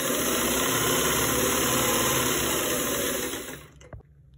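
A sewing machine stitching a straight salwar runs at a steady, loud motor hum for about three and a half seconds, then stops abruptly and leaves near silence.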